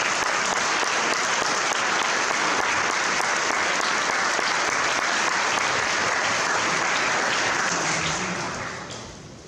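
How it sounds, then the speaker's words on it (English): Loud, sustained applause from a large audience at the Hoosier Gym, a dense wash of clapping that fades out at the end. "She deserves a round of applause."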